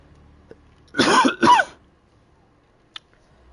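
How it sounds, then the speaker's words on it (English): A light allergy cough comes as two quick, close bursts back to back, with near silence before and after apart from a couple of small clicks. "I have allergies, so I'm going to have a light cough."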